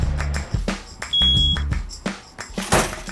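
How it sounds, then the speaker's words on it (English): An automatic tank gauge alarm beeps insistently over a rhythmic, thumping background, with one sustained high tone standing out. "Not again. That beeping ATG."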